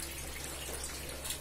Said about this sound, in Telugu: బాగా కలిసిందని ఇప్పుడు నీళ్లు పోసుకోవాలన్నమాట